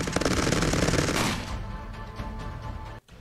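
Rapid gunfire from the video game Cepheus Protocol rattles loudly in a dense burst for over a second, then trails off into quieter scattered shots and game ambience.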